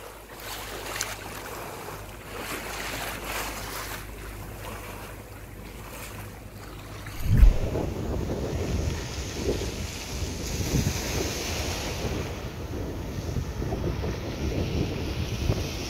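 A motorboat's engine drones low and steady while it cuts through waves, water splashing and rushing along the hull, with strong gusting wind buffeting the microphone.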